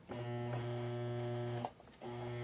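A sewing machine running straight stitching on fabric for a hot pad gives a steady, close electric hum, broken by a brief pause before the motor picks up again.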